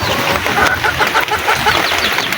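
Hens cluck repeatedly close by, a busy overlapping chorus of short, rhythmic calls over farmyard background noise.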